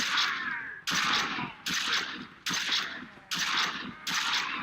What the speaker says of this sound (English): This is the Mora. It's kind of like a shotgun,